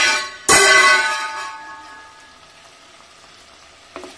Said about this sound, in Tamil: இது நம்ம லைட்டாக ஒரு ஃப்ரை பண்ணி எடுத்துக்கலாம்.